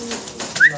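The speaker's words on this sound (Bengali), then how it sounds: "দেখেন চমৎকার এক জোড়া জার্মান মডার্না দেখাচ্ছি" A pair of German Modena pigeons gives one short, soft coo, heard up close against a quiet background.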